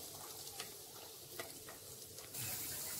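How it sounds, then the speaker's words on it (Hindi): Cashews frying in a pan make a soft, steady hiss with light crackles, then the sizzle swells louder toward the end as more heat or stirring kicks in. "और अब हम इसी के अंदर काजू डाल देंगे और इन्हें भी हम इसी तरीके से फ्राई कर लेंगे।"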